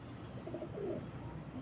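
Soft, low pigeon cooing in a pigeon loft, a gentle throaty burble heard faintly and steadily over a quiet background with no talking.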